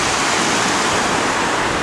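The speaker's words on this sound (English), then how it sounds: "There's a little bit of water flowing over here now. You could hear that." River water rushing over rocks on the upper Elk River, a steady, loud broadband roar that stays unbroken throughout, close by and with no voices.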